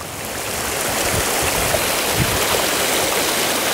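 Cold water pours steadily past a beaver dam, a close, continuous rushing wash like a small stream or waterfall that holds a constant level throughout, with no voices.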